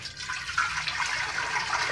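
Water pours in a steady, soft splashing stream into a pot while mocotó is being prepared for boiling, heard alone and fairly faint for a couple of seconds.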